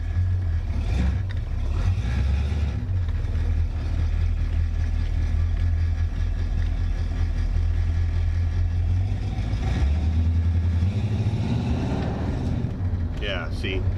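Big-block 455 V8 in a 1972 Oldsmobile Cutlass idling close up, a steady deep rumble with a loping pulse throughout, and a person speaking over it.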